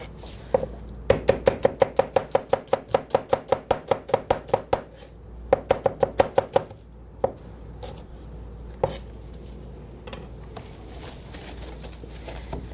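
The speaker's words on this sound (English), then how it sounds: "we're also going to julienne some red onion in there" A knife julienning red onion strikes a cutting board in quick, even chops, two bursts of rapid regular taps separated by a short pause, then a few scattered knocks.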